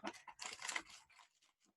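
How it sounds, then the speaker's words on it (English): Quiet, close snipping of small scissors cutting through packing tape, a few short crinkly cuts fading out. "Little scissors here to get through some tape."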